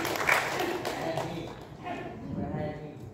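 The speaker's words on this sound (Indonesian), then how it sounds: "Tepuk tangan sekali lagi untuk Pak" Audience applause in a council budget committee meeting, a dense steady patter of clapping running under a voice as he keeps talking over it.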